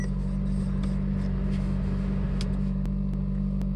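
A 2018 Hyundai Elantra Sport with a manual gearbox idles with a steady low engine hum close by, and a few faint clicks sound over it. No one speaks.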